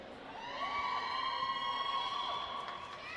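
A crowd at a roller derby game cheers for a jammer, with high, sustained shouts and whistling that rise and hold for a few seconds, heard at a moderate distance in an arena.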